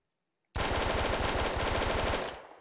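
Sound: Type 100 submachine gun firing in a VR video game

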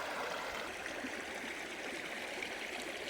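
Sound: flowing water of a hill river before the monsoon

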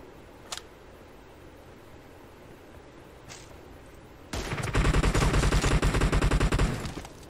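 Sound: gunfire in PUBG Mobile video game

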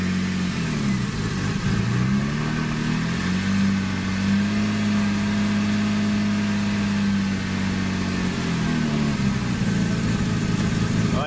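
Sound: Porsche Cayman 987 engine revving, IPD plenum, GT3 throttle body

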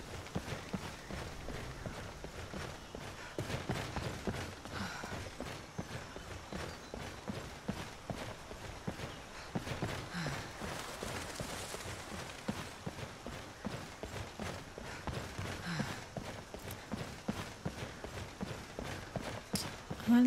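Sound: horse hooves clip-clopping in video game Skyrim

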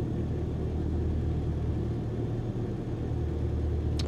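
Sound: Cessna 152 engine at idle, from video game Microsoft Flight Simulator 2020

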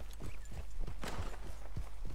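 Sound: Black Arabian horse hooves clip-clop, video game Red Dead Redemption 2

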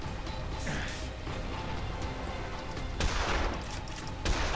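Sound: gunfire in the video game Dead Island

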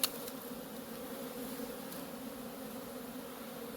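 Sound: honeybees in intense flight around hives

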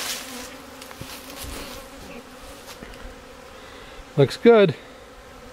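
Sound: bees buzzing around a hive being split

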